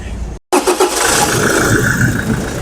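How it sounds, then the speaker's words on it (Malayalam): A 2018 Toyota Fortuner Sigma engine starts up close after a brief silent gap, catching quickly and settling into a steady, loud, smooth running hum. "ഇനി നമുക്കിത് സ്റ്റാർട്ട് ചെയ്ത് ഇതിൻ്റെ എൻജിൻ്റെ സൗണ്ടും കൂടെ ഒന്ന് കേൾക്കാം."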